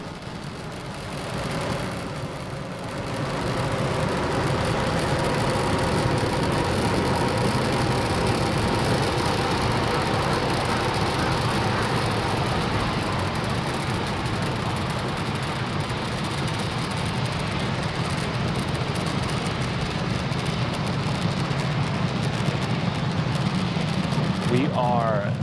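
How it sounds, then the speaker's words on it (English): SpaceX Falcon 9 engines roar during launch ascent on the Transporter-1 mission as the rocket clears the tower and throttles down. A steady, dense rumble runs throughout and swells after a quieter start, with a voice speaking over it. "Falcon 9 has cleared the tower and is currently throttling down to prepare for max Q"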